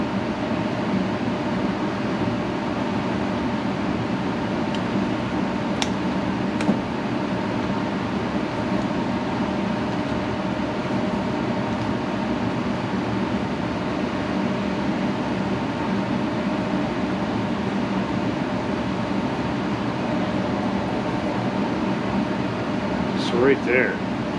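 A 3M air filter fan runs as a steady broadband whoosh with a faint constant hum, unchanging and close for the whole stretch, with a couple of brief clicks near the start and end.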